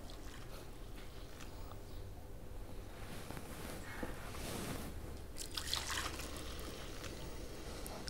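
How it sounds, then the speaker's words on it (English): A cup and a half of heavy cream is poured over semi-sweet chocolate chips in a kitchen, a faint, steady liquid trickle and glug under a low, constant background hiss. "1 1/2 cups of heavy cream."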